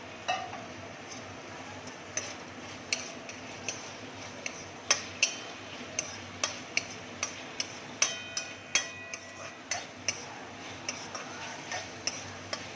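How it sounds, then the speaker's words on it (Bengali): Fried paneer being stirred into tomato and soy sauce in a pan, a regular series of quiet taps and scrapes of the utensil roughly every half second over a faint sizzle. "পনিরটা দিয়ে একটু নাড়াচাড়া করে"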